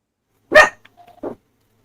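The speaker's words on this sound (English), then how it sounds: "My dog." A dog lets out one sharp, loud bark nearby, followed by a faint whine and a second shorter, softer bark, with silence before and after.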